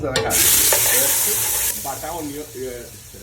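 A small amount of oil sizzling loudly in a frying pan for a healthy curry, a bright hiss that eases after a moment while a voice speaks faintly over it.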